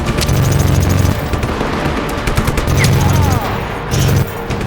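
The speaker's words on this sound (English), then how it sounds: "Threw a grenade at me." A grenade explosion in Just Cause 3, part of a chaotic burst of loud booms and rapid gunfire blasts with rumbling game noise continuing throughout.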